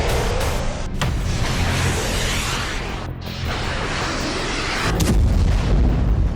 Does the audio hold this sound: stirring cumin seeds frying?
no